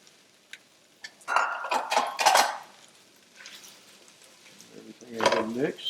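Vegetables stir-fried in black bean sauce for vegetarian jajangmyeon: close clattering bursts of stirring and scraping in a pan over a steady sizzle, with quieter pauses between.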